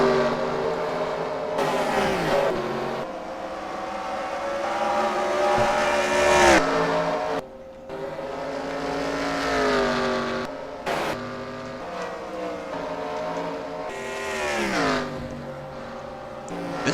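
NASCAR Cup cars race at Richmond in the NASCAR Racing 2003 game, loud engines droning and shifting pitch as they rev up through several gear changes and ease off into the corners.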